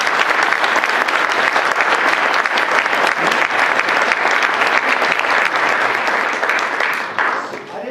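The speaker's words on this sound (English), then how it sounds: "How about a round of applause for this?" Audience applause at a school district meeting, loud sustained clapping from a crowd that carries on steadily before tapering off at the end.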